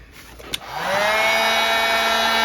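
A heat gun warms the screen adhesive on an iPhone 13 Pro Max, starting with a click and a quickly rising whoosh that settles into a loud, steady blowing roar close by.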